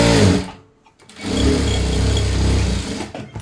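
A sewing machine stitches a blouse in two loud, steady mechanical runs, a short burst and then a longer continuous whirr, separated by a brief pause.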